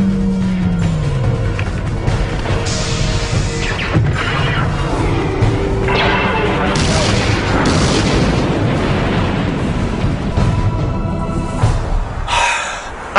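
Cannon fire in an animated film sequel: heavy booms and crashing blasts, loud and sustained, with rumbling debris over several seconds.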